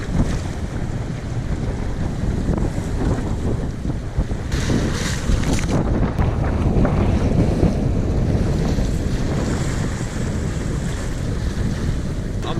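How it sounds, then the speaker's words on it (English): Ocean waves break against a small electric-outboard boat off a desert island, giving a loud continuous wash of surf and sloshing water mixed with heavy wind buffeting the microphone, and no voices. "Only had a couple of waves break into the boat."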